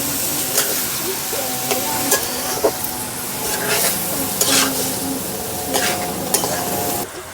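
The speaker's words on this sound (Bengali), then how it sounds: "মশলাটা ভালোভাবে কষা হয়ে গেছে, মশলা থেকে তেল ছেড়েছে। এবার থোড়টা দিয়ে দেবো।" Banana stem is tipped into fried spice masala for thor chingri and stirred, with a loud continuous sizzle and hiss broken by repeated scraping strokes of a spoon against the pan, close by. No one speaks.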